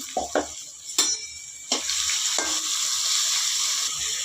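Chopped onion fries in a pan for a cauliflower and fenugreek dry stir-fry, a steady soft sizzle broken by several sharp scrapes and clinks of a spatula stirring against the pan.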